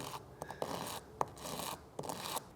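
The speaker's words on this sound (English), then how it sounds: "I gotta sand it right down to that line very carefully" A plastic prop bullet sanded by hand, with short, close rasping strokes in uneven bursts and brief pauses between them.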